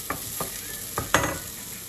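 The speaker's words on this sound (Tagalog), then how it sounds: "So ayun na siya guys, ginigisa na natin." Pizza topping sautéing in a hot pan, a steady sizzle broken by several distinct stirring scrapes, close and fairly loud with no talking.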